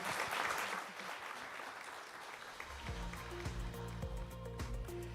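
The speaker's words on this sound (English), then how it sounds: "Let's give another big round of applause to our panelists and moderator" Applause at a conference plenary session for panelists and a moderator: a wash of clapping at the start, then fading under a low, steady musical tone that takes over the second half.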